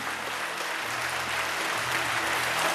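An audience claps in sustained applause at a 2016 benefit concert in Sandanski. The dense, even clapping holds steady and grows slightly louder toward the end.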